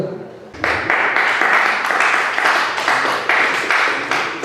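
Audience members at a forum clap together in a brief, even round of applause that rises suddenly and holds at steady volume.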